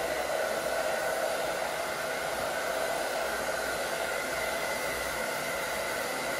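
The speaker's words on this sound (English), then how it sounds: "Try to move the blow dryer around too." A hair dryer blows with a constant airy roar, steady and close, with no voices.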